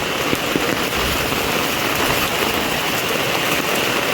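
Heavy monsoon rain pours steadily over a flooded housing society street, a dense continuous hiss and patter of drops on surfaces close by, with no pauses and no voices.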